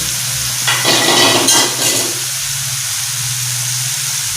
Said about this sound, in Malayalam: ഇതിലേക്ക് ചുവന്നുള്ളി നീളത്തിലരിഞ്ഞത്, പച്ചമുളക്,